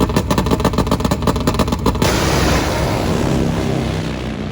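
Nitro-burning Top Fuel Harley drag bike launching hard with a loud, rapid crackling staccato that blends into a sustained roaring blast as it pulls away down the strip.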